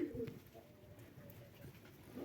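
Soft, low cooing from pigeons sitting in a dovecote, close but quiet, a couple of murmuring coos at the start and end over a dim background rustle.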